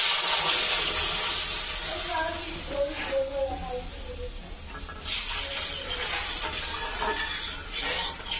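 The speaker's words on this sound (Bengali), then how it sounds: "লবণ, এখন দিয়ে দিচ্ছি জল।" Water poured into a cooking pot for a fish curry, a hissing, splashing pour with faint clinks, while a voice speaks over it.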